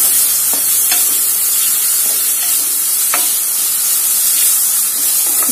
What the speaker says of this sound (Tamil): நறுக்கின தக்காளியை ஆட் பண்ணி நல்லா வதக்கணும்.